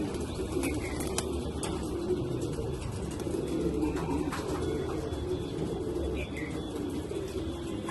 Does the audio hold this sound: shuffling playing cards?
no